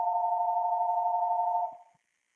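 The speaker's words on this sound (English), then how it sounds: "I did not know my phone was going to ring" A phone ringing, a single sustained electronic tone held steadily for under two seconds, then cut off, clear against silence.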